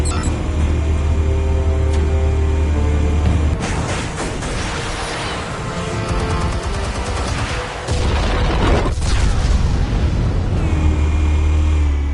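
Explosives going off in a Batman cartoon, a run of heavy booms and crackling blasts over a loud, droning score, bursts near and dense before the music settles again.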